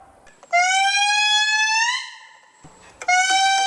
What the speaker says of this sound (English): It is the eerie wailing song of the Indri lemur